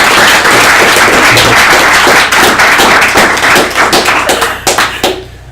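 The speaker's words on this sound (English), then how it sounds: "let's have a round of applause for Emily" Audience at a civic tech hack night gives a round of applause, loud dense clapping close by that thins into scattered individual claps before fading out.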